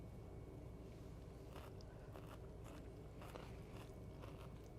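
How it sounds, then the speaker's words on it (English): Crunchy bites of a fresh quinoa vegetable salad, several faint crisp crunches spread through a quiet stretch with steady low room noise. "You can hear, you can feel the crunch"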